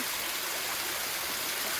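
Wolyeondae waterfall at a park in Nampyeong-eup, Naju, flows as a steady, full rush of falling water, close and continuous, with no pauses.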